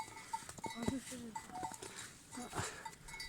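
Goats and sheep bleat at a village watering place while young goats drink, short bleats scattered through the clip under nearby people talking, with faint outdoor background.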